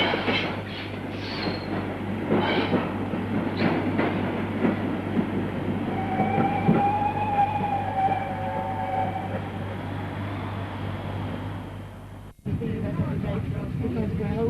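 A steam-hauled passenger train on the East Lancashire Railway rumbles and clatters along steadily from Bolton Street Station, with a long metallic squeal of wheels partway through and a deeper rolling roar near the end.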